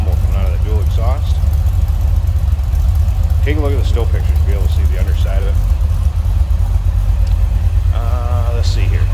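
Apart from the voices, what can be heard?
1973 Chevrolet Corvette convertible engine rumbling through dual exhaust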